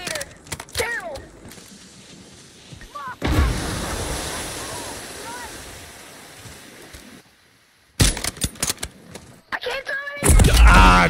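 Gunshots in a battle royale video game, sharp reports scattered through the opening and closing stretches with a steady rushing wash in the middle, players talking over the action.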